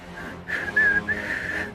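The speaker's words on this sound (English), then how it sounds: "She starts whistling." Someone whistles a short, wavering tune, the pitch sliding between a few notes for under two seconds, clear and close.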